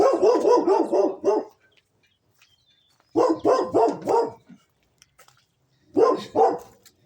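A dog barks outdoors near a garden of fabric raised beds being filled with thick cut branches, loud bursts of several rapid barks repeating three times with quiet gaps between.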